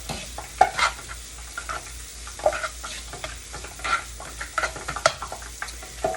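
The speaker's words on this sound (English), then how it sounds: "The sounds that you hear in the back is the oil from the other pan" Oil fries and sizzles steadily in a pan, heated for frying egg rolls, with crackling pops and spatters scattered throughout, fairly close and without any talking.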